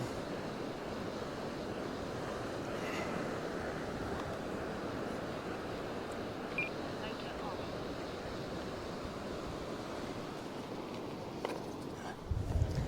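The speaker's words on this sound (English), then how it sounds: "Wind is quite strong." Strong wind blowing at a beach, a steady broadband rush of gusts and microphone buffeting with surf beneath, continuous and fairly faint, with a louder thump near the end.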